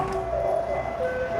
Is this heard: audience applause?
no